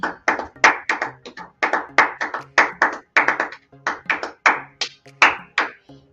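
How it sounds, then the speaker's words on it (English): One person clapping at a studio or kitchen set, about two dozen sharp hand claps in quick irregular bursts, close and loud, with no talking. "that was my clap"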